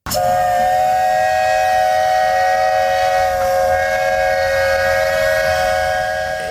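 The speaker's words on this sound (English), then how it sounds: "I flash back to Disney when I hear a boat or a train whistle" A loud, sustained whistle blows one long steady tone with bright harmonics, holding for several seconds before easing slightly at the end.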